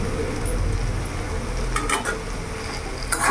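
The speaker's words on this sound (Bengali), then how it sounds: "এবার ভালো করে নাড়াচাড়া করে আমি মিশিয়ে নেব।" Kochu lati (taro stolons) being stirred in a pan with mustard and coconut paste, a steady close scraping and soft sizzle with a few sharper utensil clinks near the end.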